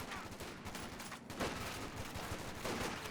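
A .50 cal machine gun fires in the WWII strategy game Company of Heroes 2, giving faint, dense bursts of rapid shots mixed with distant battlefield gunfire, with a slight swell near the end.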